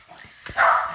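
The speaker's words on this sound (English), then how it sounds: "That's my dog barking." A single short dog bark, fairly close and clear, followed by a sustained higher-pitched whine or yelp.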